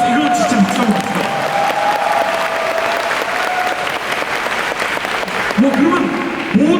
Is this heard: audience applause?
yes